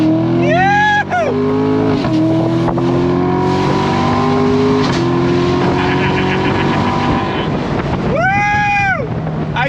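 A Chevrolet Corvette C7 Grand Sport V8 accelerates hard, its loud exhaust roar climbing through the gears with sharp claps on each shift, under strong wind noise and a person whooping.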